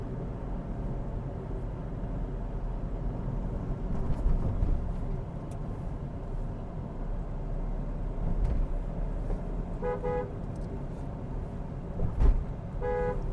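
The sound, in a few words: car horn on Hyundai Verna, Volkswagen-type horn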